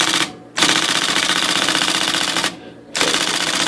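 An IBM Selectric electric typewriter rattles off rapid machine-gun bursts of repeating keystrokes, two long continuous runs broken by short pauses, loud and close with no speech.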